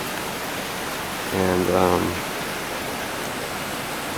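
Water flows steadily beside a walking path in Gujo Hachiman, Japan, a constant close wash that carries on throughout while a voice briefly speaks over it.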